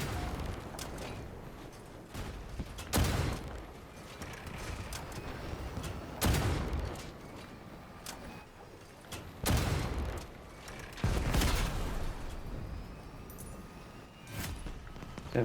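Vehicle-mounted guns fire in the game Crossout, including the new Charon weapons, in repeated heavy bursts every few seconds over a mechanical rumble. The shots are loud and sharp, with no talk in between.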